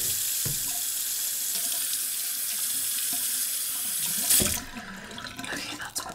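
A bathroom tap runs steadily into a sink as someone washes their face, a continuous hiss of flowing water that shifts and splashes as hands move under the stream before the flow eases.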